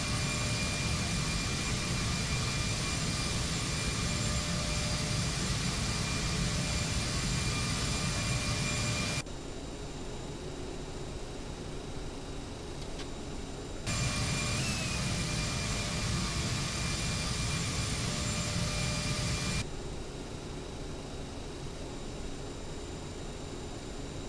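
SkyWest CRJ-900 jet engines in the Prepar3D flight simulator on approach into Idaho Falls, a loud steady roar with whine that drops to a quieter hum twice, alternating in long even blocks, no talk.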